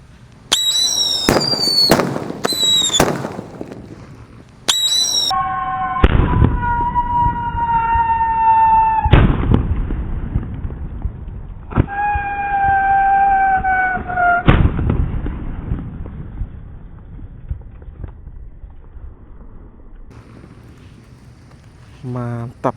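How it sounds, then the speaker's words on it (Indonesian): Paper-wrapped firecrackers set off in a cardboard box of mercon for Ramadan go off in sharp loud bursts, a rapid volley at first then separate bangs, with whistling, siren-like tones rising between blasts and crackling rumble throughout. "menyalakan mercon kertas atau mercon buntelan kertas"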